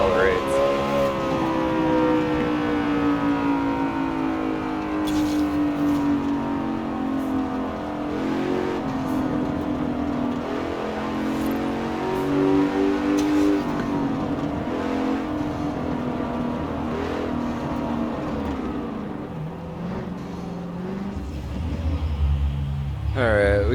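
Engine roaring steadily as a car accelerates hard in the racing game Forza Horizon 4 on a Thrustmaster wheel, a loud continuous rumble with shifting pitch and brief gear-change dips, heard alone throughout.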